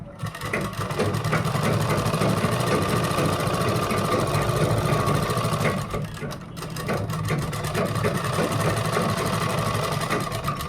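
Sewing machine running steadily while stitching a kurta made from a dupatta, a loud continuous mechanical whir with a brief pause near the middle before it resumes.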